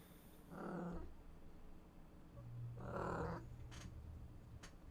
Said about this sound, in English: I hear cat.